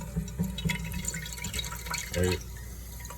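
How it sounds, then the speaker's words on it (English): Water trickles and splashes onto a dirty non-stick frying pan in a kitchen, a short close pour with drips under a man's brief speech. "Put a little water on there."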